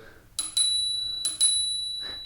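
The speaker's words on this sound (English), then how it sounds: "you're able to grab the rear brake and also ring the bell" Two double rings of the handlebar bell on a Hiboy S2 Pro electric scooter, bright and close, each pair a quick ding-ding with a ringing tone that decays, over faint background noise.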